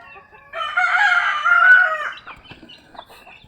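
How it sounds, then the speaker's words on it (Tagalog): A rooster crows once, loud and close, a single drawn-out call lasting about one and a half seconds, followed by faint background rustling. "yung barako."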